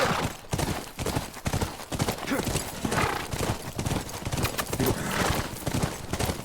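Rapid clip-clop of horse hooves in a video game, a dense galloping rhythm that runs nonstop, close and fairly loud, with bursts of game noise mixed in.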